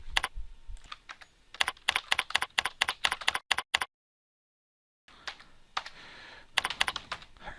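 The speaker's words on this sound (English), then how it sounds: "The message window will appear and Paul can write his reply." Bursts of keystrokes on a computer keyboard as a reply is typed into a message window, close and crisp, stopping for about a second of silence before the tapping resumes.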